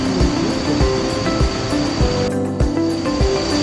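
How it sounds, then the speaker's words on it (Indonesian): The Sungai Mudal waterfall in Kulon Progo, Yogyakarta, gives a loud, steady roar of rushing water that fills the whole stretch with no voices. "air terjun Sungai Mudal yang berada di Kulon Progo guys"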